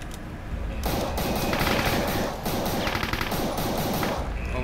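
Rapid automatic gunfire from Brutal DOOM on map E1M1, loud and nearly continuous bursts with a brief lull midway, no voices over it.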